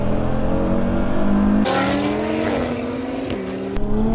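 A Stage 2 530bhp Audi RS3 and a Stage 2 535bhp Audi RS5 accelerate hard from a 30 mph roll. Loud, close engine notes climb steadily in pitch with a brief gear-change dip and some tire noise.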